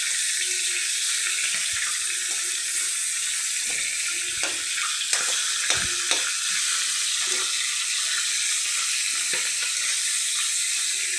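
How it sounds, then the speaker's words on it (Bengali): Katla fish heads fry in a pan with a loud, continuous sizzle and crackle that runs throughout, broken by occasional knocks and scraping bumps; nobody talks. "মাছের মাথাগুলো আগে ভেজে নিচ্ছি।"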